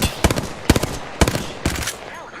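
Rapid automatic gunfire in a video game, four loud close bursts in a quick uneven rhythm with short gaps between them.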